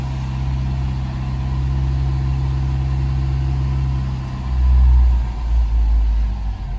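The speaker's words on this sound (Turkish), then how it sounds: "Araba biraz ısınsın şu an araba" A car engine idles steadily while warming up at around 60 degrees coolant temperature, a loud continuous low rumble with a brief rise in revving near the end, no voices.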